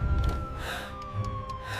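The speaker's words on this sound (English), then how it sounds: "Then I hear police sirens outside" A police car siren wails outside, a steady high tone sliding slowly downward in pitch over a low background rumble.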